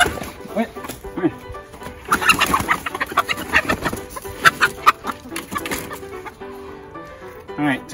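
Chickens cluck and squawk repeatedly, agitated and close by, in short irregular bursts while a person talks and moves around them.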